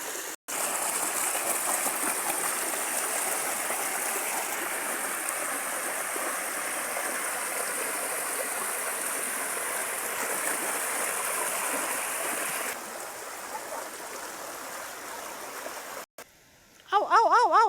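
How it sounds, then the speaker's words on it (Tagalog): A clear river in Barangay Kalwit flows steadily, a continuous close rushing and trickling of water that stays even throughout, with a brief dropout near the end. "Ito po yung ilog ng Barangay Kalwit."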